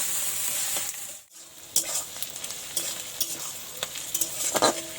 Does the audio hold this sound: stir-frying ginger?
yes